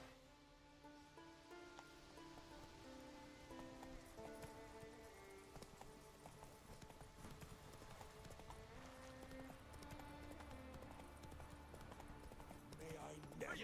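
Roach the horse's hooves clip-clop in a steady walking rhythm in The Witcher 3, heard under game music and occasional voices, the hoofbeats moderately loud throughout.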